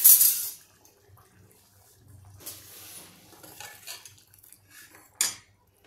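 A metal spoon scrapes cooked cowpea curry out of a pot into a serving dish, giving a string of close, irregular clinks and scrapes separated by short quiet gaps, with no talking.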